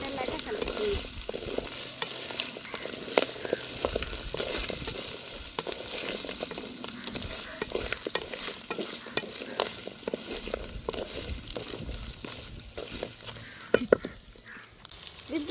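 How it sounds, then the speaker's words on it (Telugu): Crabs fry in oil with ginger-garlic paste for a Telugu village-style crab and brinjal curry, a steady loud sizzle broken by repeated scraping and stirring strokes throughout, with no talk. "ముందుగా రెడీ చేసుకున్న పీతల్ని నూనెలో వేస్తాను"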